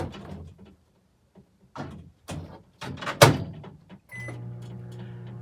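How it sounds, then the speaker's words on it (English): Microwave oven starting up for a 30-second heating run while soap is being made: door knocks and clunks, then a steady low hum that begins near the end and carries on to the close. "Throw this in the microwave, 30 seconds."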